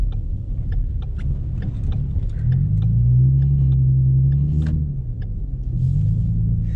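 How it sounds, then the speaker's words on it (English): A car drives through snow, with a loud, steady low engine rumble that swells as it pulls forward, plus light crunching and rattling, heard from inside the vehicle with no talk. "driving in the snow is really not hard at all"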